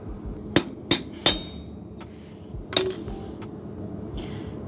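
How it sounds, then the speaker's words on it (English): A screwdriver is hammered against a rear brake clip on a car to knock it off, giving several sharp metallic whacks: three quick hits, a pause, then another strike, with some softer clinks after. "you're going to have to get a screwdriver and whack the actual clip off"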